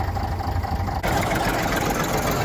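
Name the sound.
tractor engine running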